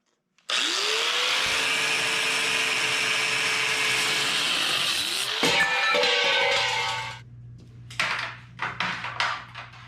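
Power tool with a cutting wheel cutting metal for a rat rod's floor and driveshaft tunnel, a loud steady grinding whine that winds up, bites and drops, then restarts before falling to clatter and quieter knocks.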